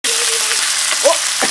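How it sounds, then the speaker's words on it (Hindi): Boneless chicken frying in a pan with onion, ginger and garlic, a loud steady sizzle with faint stirring sounds. "और अब इसमें बोनलेस चिकन डाल रही हूँ"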